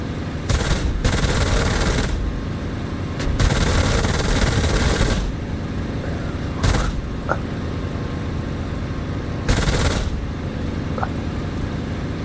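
Aircraft guns in the DCS flight combat game firing in several sustained bursts over a steady engine drone, loud and close with no talking.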